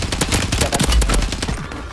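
Rapid bursts of video game gunfire in a Rebirth Island battle royale match, with the player shot at from behind. Loud, dense automatic fire repeats without a break, close up and alone.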